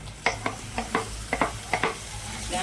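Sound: carrots being roasted in a pan

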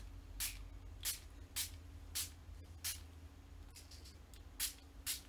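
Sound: spray bottle spraying water

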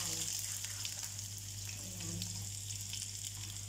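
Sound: chicken being sautéed in a pan

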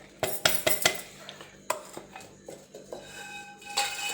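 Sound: mixing ingredients in a pan

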